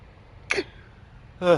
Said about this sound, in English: I'm having a sneezing fit